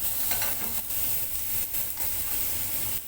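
Garlic frying in a generous amount of oil for fried rice, giving a loud, steady, close sizzle and hiss with brief stirring scrapes and no talking.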